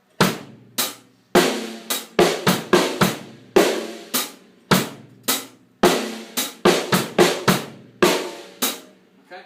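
A drum kit plays a steady pattern of sharp, ringing hits with bass drum thumps falling on the offbeats, repeating in a bouncy rhythm with no talking.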